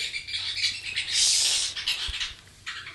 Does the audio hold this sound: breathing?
no